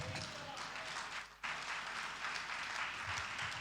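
A church congregation breaks into applause, a dense wash of clapping with a brief dip before surging back and continuing steadily, voices mixed faintly underneath.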